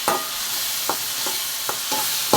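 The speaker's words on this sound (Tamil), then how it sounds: "இப்போ கொஞ்ச நேரம் வதக்கிடுவோம்ப்பா." Vegetables and tomatoes for sambar sautéing in a pan, a steady hiss of sizzling with a few soft spoon scrapes against the pan, close and alone.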